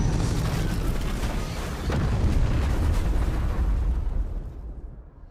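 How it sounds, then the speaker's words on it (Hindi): A tanker explosion roars and rumbles for several seconds, swelling midway before the blast noise thins out and fades near the end. "गोल्डन हॉर्न खाड़ी में एक छोटे टैंक का विस्फोट ट्रांस अटलांटिक टैंकर में हुआ है"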